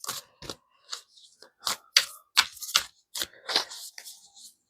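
Quick bursts of crisp oracle card shuffling, a series of riffling snaps and flicks in an uneven rhythm, close and clear with no talking.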